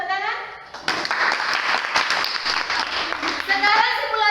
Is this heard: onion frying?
no